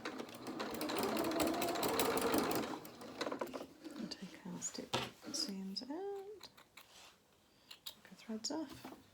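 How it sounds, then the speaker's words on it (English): A sewing machine reverse stitching a seam on small dungarees runs in a close, fast whirring burst, then stops and restarts in shorter stitching runs with handling clicks, while someone talks. "Reverse sew at the top of the bottom."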